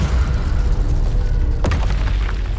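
Confringo, an explosive spell, is cast in the video game Hogwarts Legacy, producing a loud, dense rumbling boom with a sharp crack midway and mechanical clatter, no voices.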